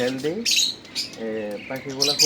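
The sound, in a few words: pet lovebirds squawking in a colony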